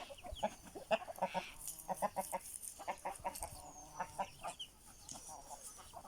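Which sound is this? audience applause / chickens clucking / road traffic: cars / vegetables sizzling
chickens clucking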